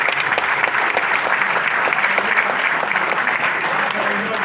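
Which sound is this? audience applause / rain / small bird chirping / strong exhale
audience applause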